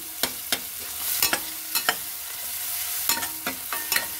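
Tomatoes and spices sizzling in a pan for dhaba-style arhar dal fry, with a spoon scraping and stirring in sharp, irregular knocks over a steady frying hiss.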